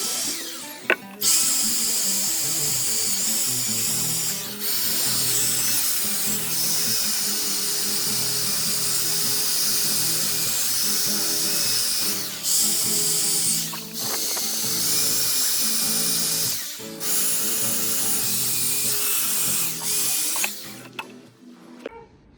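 A high-speed power tool polishes the aluminium cam cover of a 1990 Harley-Davidson 883 Sportster, whining loudly and steadily up close in long passes broken by several short pauses.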